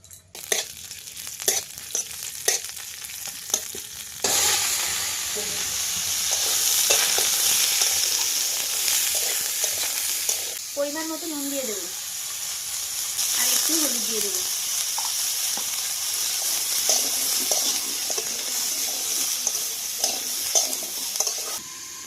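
Chopped onion with panch phoron fries in oil in a wok, a loud steady sizzle that starts abruptly with scraping stirs, while someone talks briefly partway through.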